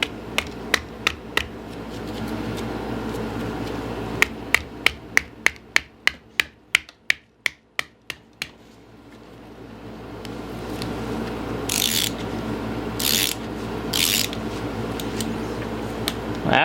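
A ratchet wrench works at seized bolts on a 1950 Ford Flathead engine, giving a fast run of crisp, evenly spaced metallic clicks up close, then a pause followed by a few louder, rougher bursts.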